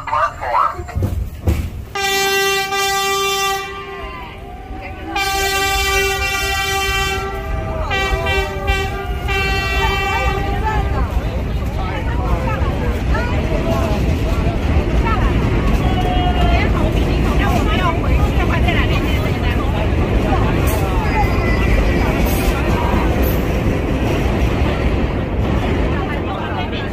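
A vintage New York subway train sits at an elevated station on a holiday museum run, sounding a long two-toned horn blast, then rumbling and screeching as it pulls away, with a station announcement and passenger chatter under it.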